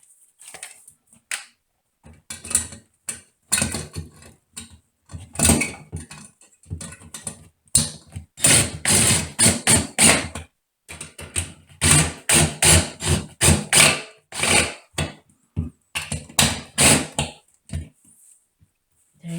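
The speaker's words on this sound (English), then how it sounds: "put the screws in" Screws driven in while installing a bathroom fixture, heard as bursts of rapid, buzzing ratcheting and clattering strokes in irregular clusters, close and fairly loud.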